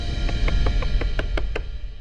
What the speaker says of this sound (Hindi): मैं कब से दरवाजा बजा रहा हूँ